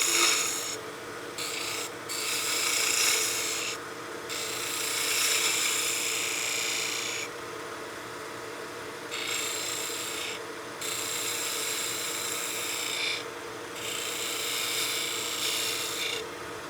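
Spindle gouge cutting a radius on a wood turning block spinning on a lathe, giving a steady close scraping, rasping hiss with brief gaps where the cut lifts off, over the constant hum of the machine.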